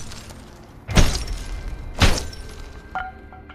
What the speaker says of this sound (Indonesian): Di saat dia berada di parkiran mobil, ia mengambil tongkat kayu lalu memukul kaca depan mobil Sam, lalu memutuskan untuk pergi.